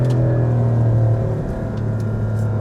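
A Porsche 911 engine drones steadily on the move, a loud, close, sustained rumble with a slight dip and recovery in revs, sounding continuously from start to end with no talk over it.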